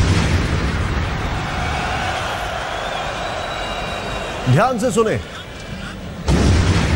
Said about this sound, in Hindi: मैच के दरमियान धमाके की आवाज सुनाई देती है